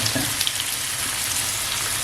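Cleaned, finely cut squid pieces sizzle dry on a hot tawa with no added water, a steady even fry with faint stirring clicks and no talk.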